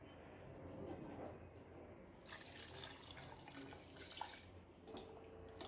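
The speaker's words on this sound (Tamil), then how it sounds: "ரெண்டு டம்ளர் வந்து தண்ணி ஊற்றிக்கலாம்" Two tumblers of water pour steadily into a pot of mutton, a continuous splashing rush with a faint hum underneath and no talking.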